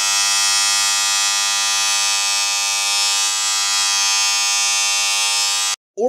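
A Wahl Groomsman clipper built for US 110 volts, running outside the USA, gives a loud, steady electric buzz that holds constant for almost six seconds and then cuts off abruptly.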